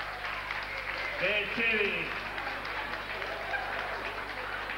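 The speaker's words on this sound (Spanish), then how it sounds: "Un aplauso más fuerte que se lo merece." An audience applauds Mari at a live event, a soft, even spatter of clapping under a voice speaking, with a low steady hum in the background.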